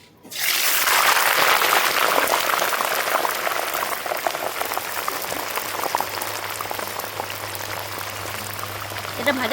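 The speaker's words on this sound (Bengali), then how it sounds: "এবার তেল বসিয়ে দিয়েছি, তেল গরম হয়ে গেছে, আলুগুলো ছেড়ে দেব।" Potato slices dropped into hot oil, setting off a loud, steady bubbling sizzle that starts abruptly and continues close up throughout, easing slightly over time.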